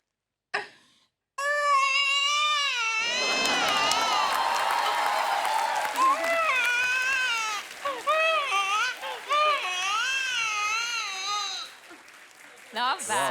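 A man imitates a newborn baby's crying with his voice, producing wavering, high-pitched wails in bursts before a live audience, with crowd laughter and applause rising around the imitation.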